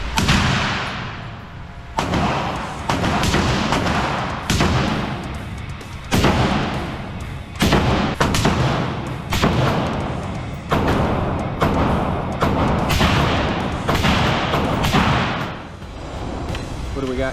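Loud rifle shots from AR builds at an outdoor gun range, a string of roughly a dozen close, booming reports at a steady, unhurried pace, each leaving a short echo.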